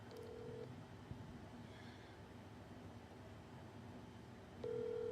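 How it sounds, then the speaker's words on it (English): A phone ringing on an outgoing call, heard as two steady electronic ring tones, one short burst near the start and another near the end, over a constant low hum with no talking. "Y'all can hear that ringing?"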